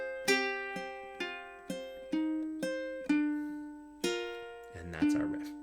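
A ukulele plays a riff alone: about ten plucked notes with bright attacks that decay quickly, in a steady, unhurried rhythm, ending on a brief strum.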